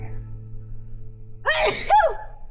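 A single sharp sneeze bursts out near the end after a brief intake of breath, close and loud against a low background hum.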